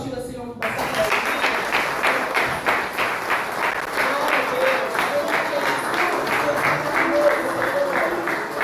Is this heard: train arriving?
no